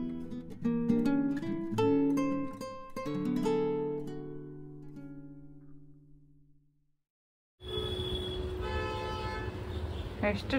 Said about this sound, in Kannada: ಎಷ್ಟೊಂದು ವೆಹಿಕಲ್ ಓಡಾಡುತ್ತಲ್ಲಮ್ಮ